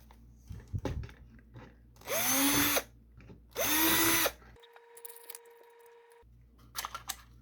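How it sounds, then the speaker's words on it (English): A power drill bores out the sacrificial bridges on a 3D printed Dalek part in two loud whirring bursts of about a second each, with clicks and handling noises around them. "You can drill those out."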